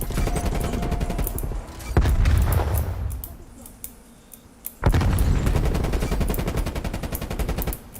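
Video game firefight with rapid automatic gunfire bursts, a thudding grenade explosion and booms, loud and continuous with a brief lull before fire resumes.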